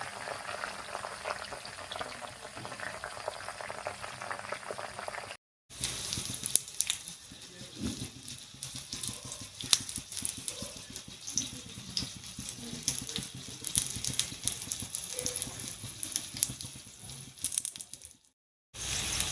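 Medicated herbal oil for skin conditions bubbling and frying in a pot as it cooks down, a steady close crackling sizzle with brief gaps of silence and no talking.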